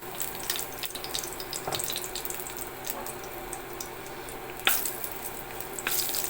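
Cinnamon pieces, a bay leaf and cardamom pods fry in hot oil in a pan, giving a steady close sizzle and crackle with a sharp clink or two partway through.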